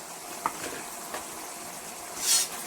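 Dried red Bellary chillies crackle in a hot pan, a soft sizzle with a few light stirring taps and a brief brighter hiss near the end.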